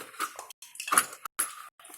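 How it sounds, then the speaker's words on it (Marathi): A kadhai (wok) is set down on a gas stove in a home kitchen while making chakli, giving a few short metallic clinks and clatters in quick bursts separated by brief silences. "आता इथे मी बाजूला गॅसवरती कढई ठेवलेली आहे"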